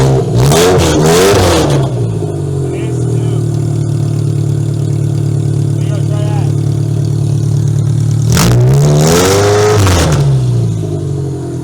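A Toyota Camry engine, just revived after wiring repairs, idles steadily at close range with loud revving bursts at the start and near the end, while people talk over the revs.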